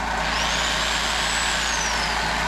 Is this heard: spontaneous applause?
no